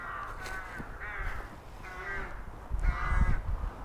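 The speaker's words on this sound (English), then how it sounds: "walking around the wooded area, and there's all the crows" Crows caw repeatedly from a moderate distance in a wooded area, several harsh calls spaced out over steady outdoor background noise, with a brief rustle near the end.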